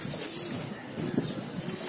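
Pigeons at a loft, including fancy breeds, give soft, low repeated coos, close and fairly quiet over a faint background hiss.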